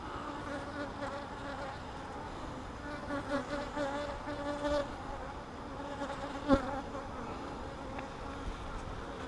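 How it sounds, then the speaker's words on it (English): Honeybees swarm around a mating nuc hive box, filling the air with a steady, close, droning buzz of many wings whose pitch rises and falls as individual bees pass nearer, with one brief sharp knock partway through. "Look at all those bees on the side of that hive, side of that box."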